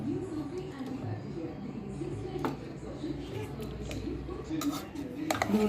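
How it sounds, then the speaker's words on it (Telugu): Cooked chicken mashed in a pot with a wooden dal masher, soft squishing thuds and occasional clinks against the metal pot, with a person talking over it. "ఈ పప్పు కవ్వంతో ఎంత మెత్తగా వీలైతే అంత మెత్తగా దీన్ని మ్యాష్ చేసేసుకోవాలి"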